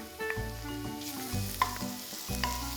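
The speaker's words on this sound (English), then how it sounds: "so I'm going to add to that the garlic" Garlic added to softened onions in a pan, sizzling steadily up close with a few light clinks and stirring scrapes, no talking.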